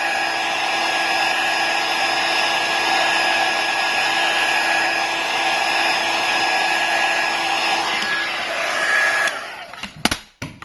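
A heat gun blows hot air onto an iPhone glass screen during repair, a loud, steady hair-dryer-like roar with a constant whine that holds for about nine seconds, then cuts off into a few clicks and knocks.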